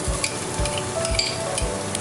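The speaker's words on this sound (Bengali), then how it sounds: "এবার এর মধ্যে এই চপড অনিয়ন্সগুলো দিয়ে দেবো" Chopped onions stir-fry in garlic-infused oil with a loud, close sizzle, broken by regular rhythmic scraping strokes of a spatula across the pan about twice a second.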